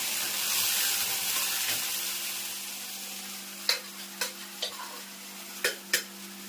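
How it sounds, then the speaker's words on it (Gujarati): Fenugreek-seed tempering with mustard seeds, cumin and curry leaves sizzles steadily in hot oil, then a spoon scrapes the pan in several sharp separate clicks over the continuing fry. "સરસ મજાનો મેથીનો વઘાર થઈ ગયો છે"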